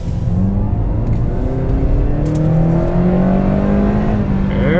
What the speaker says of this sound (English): There's that Honda sound.